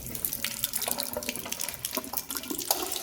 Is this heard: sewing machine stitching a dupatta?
no